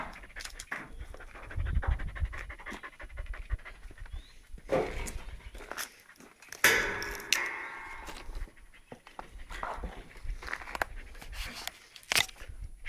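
Kelpie dogs pant in quick, irregular bursts close by, mixed with occasional scratching and crunching sounds, with no speech.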